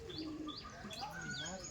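Giribaj high-flying pigeons coo and chirp in a loft, soft throaty calls overlapping with brief tweets, quiet and close, with a voice faintly underneath.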